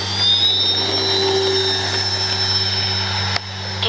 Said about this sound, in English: We'll take off one more time here.